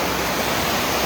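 Elephant Falls waterfall in Shillong gives off a loud, steady, full roar of rushing water that fills the whole moment without any break or voices.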